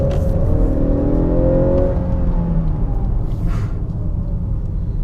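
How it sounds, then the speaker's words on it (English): A car engine roars loudly and climbs in pitch under hard acceleration, a deep rumble throughout as it pulls away at full throttle. "That was full throttle, man."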